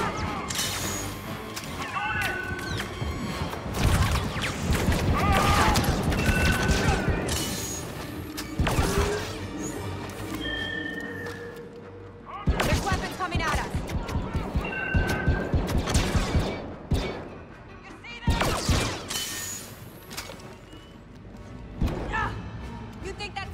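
Blaster gunfire rattles through a Star Wars Battlefront II (2017) battle, repeated bursts of sharp shots and impacts over a dense, steady din of combat, with talk in the background.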